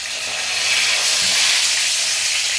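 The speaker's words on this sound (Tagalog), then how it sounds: "Ito po, nagpipirito po tayo ng isda. Isdang pampano, mga kababayan." Pompano fish frying in a pan on a morning in San Carlos City, Pangasinan, giving a steady, close, loud hiss of sizzling oil throughout with no talking.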